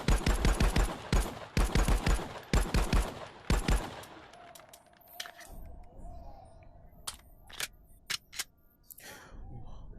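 Glock pistol fire in a VR shooting game comes as a rapid string of sharp, loud shots in the first four seconds, followed by quieter scattered clicks and a few isolated pops.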